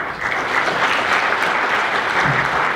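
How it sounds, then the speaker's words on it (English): Event audience of startup participants applauding themselves, a full steady round of clapping that holds evenly from start to finish with no speech over it. "you should give yourself a round of applause"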